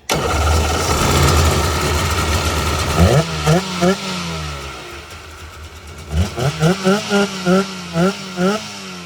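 The engine of a 2003 Sea-Doo GTI RFI jet ski idles loudly, then revs in a series of sharp, repeated throttle blips that rise and fall in pitch, close by.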